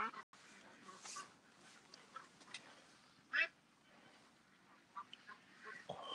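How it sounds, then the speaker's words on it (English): Scattered duck quacks, one sharp and close, others fainter, over quiet outdoor background with soft voices now and then. "Oh man, these ducks."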